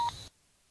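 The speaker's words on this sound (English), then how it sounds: "And you will hear 1 beep." A single short electronic beep from a behind-the-ear hearing aid after its button is held, a brief clean tone cutting off abruptly into near silence.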